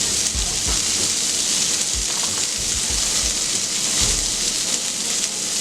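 Burgers sizzle on a Steelmadeusa grill, a steady loud crackling hiss with scattered pops, close up and continuous throughout with no talk.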